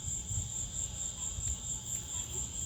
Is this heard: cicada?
yes